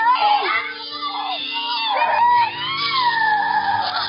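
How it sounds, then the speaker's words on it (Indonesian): A woman in a film screams in pain while giving birth, with loud, drawn-out cries that rise and fall over a soft musical background and carry on without a break. "si ibu sangat berteriak kesakitan"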